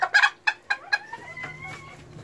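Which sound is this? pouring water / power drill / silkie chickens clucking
silkie chickens clucking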